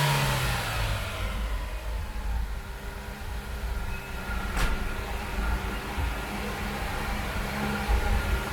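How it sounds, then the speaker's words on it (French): Car engine fitted with a transistorized ignition box revving up, a steady loud throaty roar held close by with a sharp brief click partway through. "Là je vais accélérer un petit peu, vous allez voir comment ça part."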